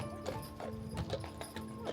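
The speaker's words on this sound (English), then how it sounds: "the seasonal experience of a horse carriage ride" Horse hooves clip-clop in a steady, even rhythm as a carriage rolls through the grounds of a Georgian manor hotel in Hampshire, moderately close, with a soft backdrop.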